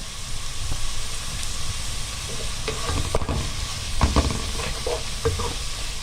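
Chicken pieces sizzle in a pan with softened onion and green pepper, giving a steady, close frying hiss broken by occasional clinks and scrapes of stirring, with no talking.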